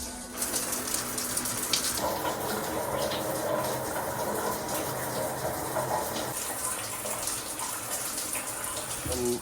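Steady rushing water runs without a break throughout, a broad hiss like a shower or bathtub tap pouring, with a faint murmur of voices beneath it.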